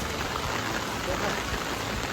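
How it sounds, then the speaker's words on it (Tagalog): Heavy typhoon rain pours down in a steady, dense roar, close and continuous, with no break across the short stretch. "Ulan talaga."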